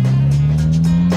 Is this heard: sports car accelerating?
yes